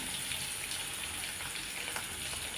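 Chopped onion, ginger and green chilies sautéing in hot oil with mustard seeds and curry leaves, a dense, steady sizzle and crackle that holds without a break, close up and with no voices.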